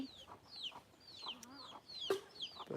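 Desi hens and a rooster cluck close by in a farm yard, quick repeated calls overlapping in a lively, moderately faint chorus.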